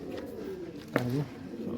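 Pigeons cooing on a rooftop, one soft rolling coo standing out midway over a steady murmur of background noise.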